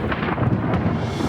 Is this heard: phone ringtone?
no